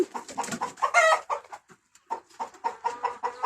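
A flock of small hens clucks close by in quick, choppy bursts, pausing briefly around the middle before the rapid clucking picks up again.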